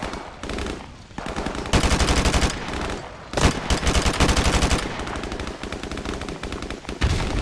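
Rapid machine-gun and rifle fire crackles almost without pause through a firefight in the video game Modern Warfare 1 Remastered, loud and close, with dense overlapping bursts and a few brief lulls.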